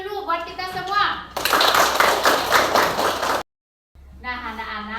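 Children in a classroom break into a burst of rapid, dense clapping lasting about two seconds, close and loud, between stretches of someone speaking.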